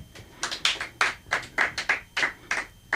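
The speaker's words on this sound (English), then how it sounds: "Please applaud if you think I look like them." Audience applause at a live comedy-style show: a short patch of scattered, uneven hand claps, fairly close and moderately loud, with no one speaking.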